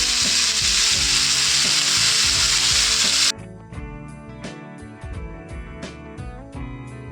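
Green chilies and chopped onion sizzle loudly in hot oil for a Kerala duck curry, a steady bright frying hiss that drops away halfway as stirring and pan clinks take over.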